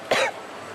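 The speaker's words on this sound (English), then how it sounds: "Apologies for the coughing." A single short cough from a commentator at a freediving pool world championship, close and sharp, lasting a fraction of a second and then fading into quiet room tone.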